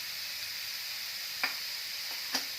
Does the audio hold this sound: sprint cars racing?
no